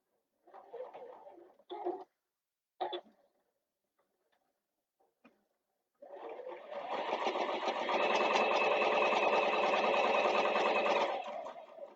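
After a few short bursts of talk and a pause, a sewing machine starts up and stitches a slip pocket in one sustained, close, fairly loud run that stops near the end.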